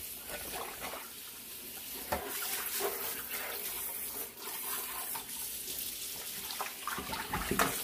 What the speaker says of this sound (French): je vais nettoyer jusqu'à ce que l'eau soit claire.